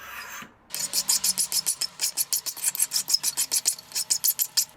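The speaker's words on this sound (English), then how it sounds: "So I file it to a slender taper" A hand file rasps in quick, even back-and-forth strokes as a steel clock latch spring is shaped to a slender taper, about twenty close, crisp strokes after a brief pause.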